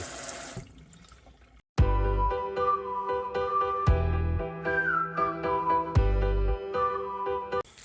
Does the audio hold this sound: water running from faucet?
yes